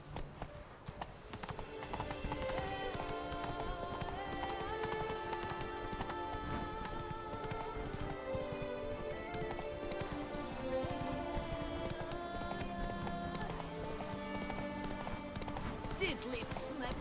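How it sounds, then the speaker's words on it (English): Horse galloping in The Witcher 3 video game, a steady fast clip-clop of hooves under game music and a voice, with a rain-like patter in the background. "Run, Roach"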